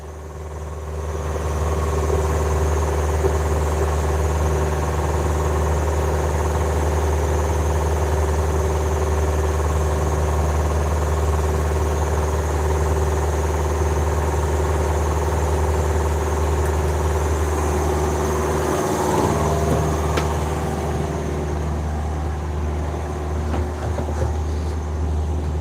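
The inboard engine of a sailboat crossing from Fiji to Vanuatu drones on continuously, a loud, even low-pitched hum with a brief shift and some clatter near the end and no talking.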